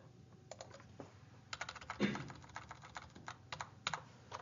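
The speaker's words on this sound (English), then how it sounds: "type it in just like I got it" Quiet typing on a computer keyboard, a steady run of soft key clicks with brief pauses, close to the microphone and with no talk over it.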